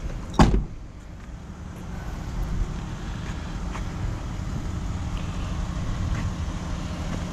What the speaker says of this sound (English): these mirrors have a power fold-in button here for parking on a street